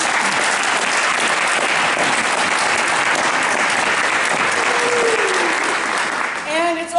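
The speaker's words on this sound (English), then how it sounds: "Can we just give them a round of applause?" An audience claps at a live presentation, a dense, sustained round of applause that stays steady throughout and thins out in the last moment.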